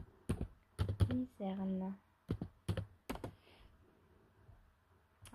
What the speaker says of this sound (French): j'ai besoin de mon clavier